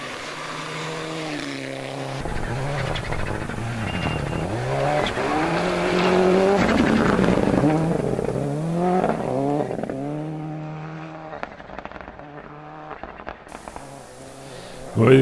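Modern and historic rally cars race along a stage, engines revving and rising in pitch as they pass close by, with crowd noise and the roar fading toward the end.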